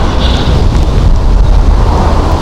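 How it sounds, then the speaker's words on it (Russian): Strong wind roars steadily into the microphone on a street in Saint Petersburg, a dense low rumble that never lets up, with no voices. "Очень сильный ветер"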